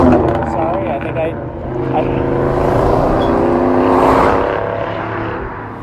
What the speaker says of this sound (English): that was a pretty damn cool car. I couldn't even see what it was. It was just black and loud.